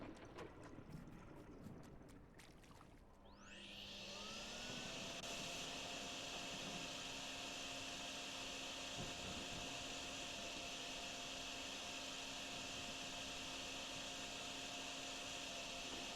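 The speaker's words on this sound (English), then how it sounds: "Let's take the vacuum cleaner." A vacuum cleaner in the drain-cleaning video game Drain Sim spins up after a few seconds of clatter and then runs loud and steady, a constant high whine with a low hum underneath, alone with no voices.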